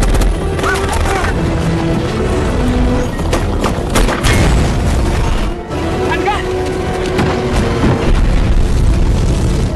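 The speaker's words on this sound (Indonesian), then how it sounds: "Swagger menyuruh Nick untuk berlari memancing perhatian heli, sementara dirinya akan meledakkan heli itu." A helicopter blown up in a film action sequence: loud, heavy booming blasts and rumbling debris with layered impacts, a brief dip midway before the roar resumes, dense and close throughout.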